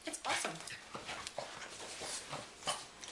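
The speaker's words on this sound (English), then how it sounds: "And I have a snorkely puppy." An excited puppy snorts and pants close to the microphone in quick, irregular huffs and sniffs, fairly quiet, with a person speaking faintly nearby.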